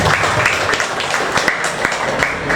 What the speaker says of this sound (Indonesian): Tepuk tangan buat Pak.